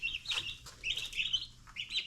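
Young chicks cheep in short bright bursts, several high peeping calls close by with brief gaps between them.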